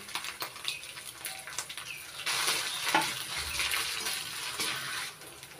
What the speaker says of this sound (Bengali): লঙ্কা কুচি একটু ভেজে নিয়েছি